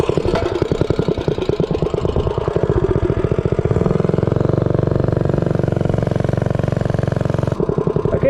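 Doodlebug minibike's small single-cylinder engine on a top speed run, close and loud, rapid putter climbing into a sustained high-revving drone, then easing off near the end.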